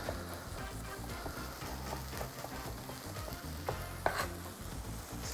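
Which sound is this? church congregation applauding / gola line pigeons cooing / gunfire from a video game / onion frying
onion frying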